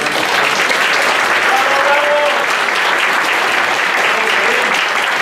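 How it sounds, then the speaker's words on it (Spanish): Steady, loud applause from a seated audience at a law lecture, welcoming a guest speaker to the podium; continuous clapping fills the whole span with no break. "demos un aplauso de bienvenida"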